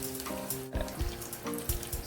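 A chorizo taco fries in a pan with a steady sizzle, broken by a few soft taps and scrapes as a small fork flips it.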